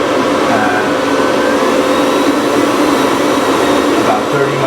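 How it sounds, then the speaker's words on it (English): A DIY HEPA fume extractor for a dental office runs at its highest setting, a steady loud broadband whoosh of suction airflow with motor hum, constant and close throughout with no talk. "so you can see how loud it is. It's not crazy loud"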